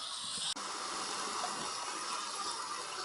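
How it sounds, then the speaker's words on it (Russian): A grill hissing as potatoes cook, a continuous close steamy sizzle with one brief dropout near the start, then steady to the end. "Ну, вот так процесс идет. Вот так шипит гриль."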